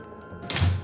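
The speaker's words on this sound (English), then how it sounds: "as I closed the door" A door closing as a radio drama sound effect: a single short, solid thunk, close and fairly loud, after a brief quiet hiss.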